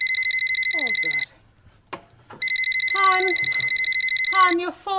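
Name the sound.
mobile phone ringing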